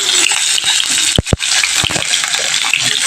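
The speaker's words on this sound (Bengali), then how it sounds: "আলুগুলো তেলের মধ্যে আমি একটু হালকা করে নেড়ে নিই।" Potatoes are stirred in hot oil with a utensil, giving a steady broadband sizzle and a few sharp scrapes and knocks against the pan, close and loud.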